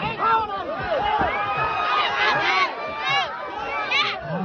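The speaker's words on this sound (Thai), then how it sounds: "เชียร์โอ้กองเชียร์เยอะเหลือเกิน" A large crowd cheers and shouts at a Thai boxing match in Ubon Ratchathani, a steady roar of many voices with excited whoops rising and falling throughout, mixed with commentary.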